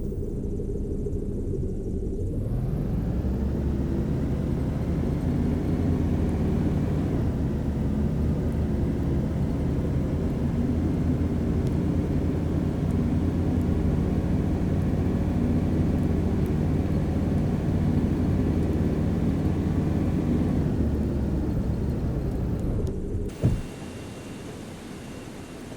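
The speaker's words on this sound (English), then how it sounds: "can hear an airplane taxiing." In the video game AirportSim, an airplane taxies with a steady, broad jet engine roar that holds for about twenty seconds before cutting off abruptly.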